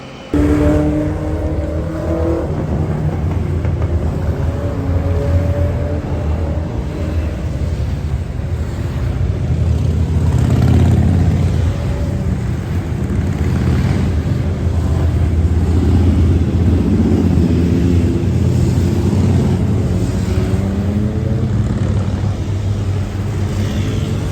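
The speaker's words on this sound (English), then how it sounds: "there's like a mad procession of mopeds and motorbikes. There's a few of them here." A continuous roar from a procession of mopeds and motorbikes with rising and falling revs, heavy wind buffeting throughout, no voices, the traffic staying loud and close.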